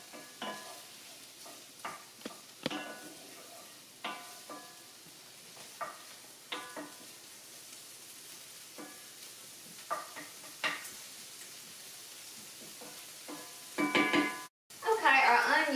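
Onions frying and browning in a Dutch oven, a soft sizzle under repeated scraping stirs at irregular intervals, close by, ending in a few louder knocks and clatters.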